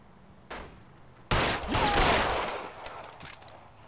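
Gunfire in an L.A. Noire hostage shootout: one sharp shot, a short pause, then a loud burst of rapid overlapping shots with echoing decay and a few trailing pops.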